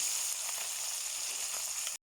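Steady, close sizzling of fish frying in a hot iron wok, a bright continuous crackle that holds evenly and then cuts off abruptly.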